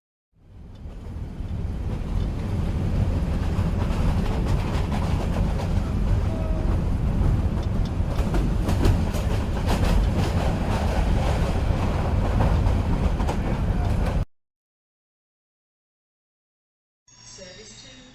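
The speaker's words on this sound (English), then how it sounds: "This train has 9 coaches." A passenger train to Edinburgh runs steadily, a loud continuous rumble and rush lasting about fourteen seconds before it cuts out, then a short station announcement follows.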